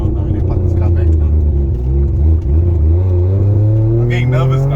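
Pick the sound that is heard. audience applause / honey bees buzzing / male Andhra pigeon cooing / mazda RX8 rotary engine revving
mazda RX8 rotary engine revving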